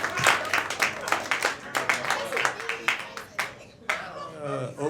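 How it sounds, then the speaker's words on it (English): A comedy club crowd claps for a comedian coming to the stage, sounding as a run of sharp, close claps. Near the end the clapping gives way to a voice speaking. "Get the clap back going for Mike Morrison"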